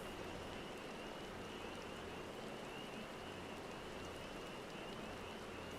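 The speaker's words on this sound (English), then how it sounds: "It's fucking raining outside in real life as well." Steady rain falling outside, a soft continuous hiss of drops on surfaces with no breaks, faint and even throughout.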